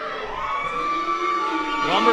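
Wrestling crowd at a live event reacting after a body slam, a loud sustained roar of cheering and shouting voices with whoops, rising near the end, a commentator's voice mixed in.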